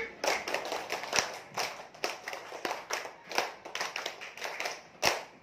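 In a school setting, a group claps out a rhythmic classroom clap pattern: crisp, close hand claps come in counted bursts with short pauses between them, ending in a sharp final clap.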